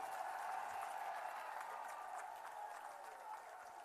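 Crowd applause at a Delhi public event, a broad steady wash of clapping from a large audience, moderately loud and continuous, with no speech over it.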